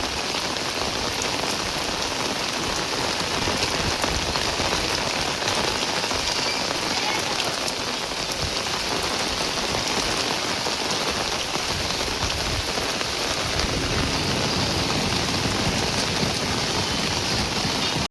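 Steady rain pours down in a rural village, a dense, unbroken hiss of drops striking surfaces that stays loud and even throughout, with no one speaking.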